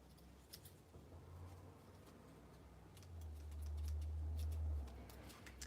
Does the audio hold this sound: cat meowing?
no